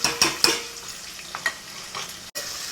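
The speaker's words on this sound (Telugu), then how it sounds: "ఇవి బాగా వేగనిద్దాము ఆయిల్లో," Mint and ginger frying in oil for a chicken curry, with soft sizzling under a few sharp stirring clicks and scrapes of a utensil against the pan.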